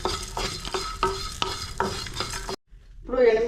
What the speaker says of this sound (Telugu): ధనియాలు, ఈ చిమ్ములో పెట్టుకుని దోరగా వేపు.